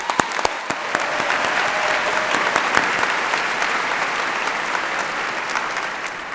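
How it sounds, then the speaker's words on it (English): A graduation crowd for Lee's Summit West High School's class of 2019 breaks into sustained applause, a dense wash of clapping with a few sharp, close claps standing out. "Give yourselves a round of applause."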